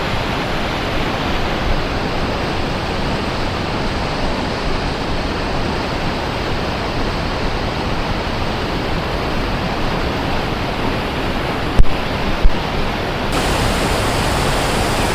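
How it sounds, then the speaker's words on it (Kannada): Devkar waterfall in the Western Ghats near Yellapur, Karnataka, roars as water pours down and flows on, a dense, constant rush close by that fills the whole scene without any voices. "ಆ ನೀರು ಬೀಳೋ ಫೋರ್ಸ್ಗೆ ಇಲ್ಲಿ ವೈಬ್ರೇಷನ್ ಫೀಲ್ ಆಗ್ತದೆ"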